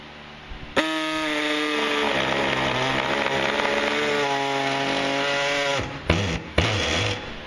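A power tool cuts extra plastic from a snowmobile belly pan, a loud, steady buzzing whine running for several seconds before cutting off, followed by two short bursts of cutting.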